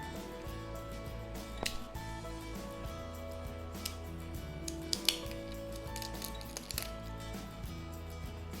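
Crispy homemade achu murukku snapped by hand, giving small scattered crackles and crunchy clicks over a steady low background hum, light and fairly close.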